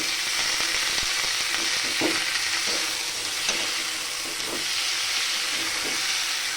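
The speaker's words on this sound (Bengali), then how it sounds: "পেঁয়াজটা ভাজা হতে হতে এর মধ্যে আমি একটু সামান্য হলুদ গুঁড়ো দিয়ে দিলাম" Onion frying in oil with turmeric powder added: a steady hiss of sizzling fills the space, with a few soft stirring knocks underneath.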